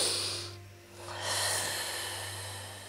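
Deep breathing during a yoga routine: a slow, airy inhale or exhale fades out, then a second long breath swells back up and trails off, close and clear over a low steady hum.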